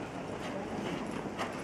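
A horse's hooves clip-clop steadily in a rhythmic, fairly close stream of soft thuds against a noisy outdoor background, with no one speaking.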